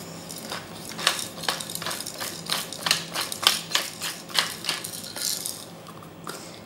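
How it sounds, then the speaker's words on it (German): A salt and pepper mill grinds over a simple vinegar-and-oil salad dressing, a close, rhythmic series of gritty cranks repeating about every half second, with no talk. "Salz und Pfeffer, ihr wusst, meine Salz-Pfeffermühle da"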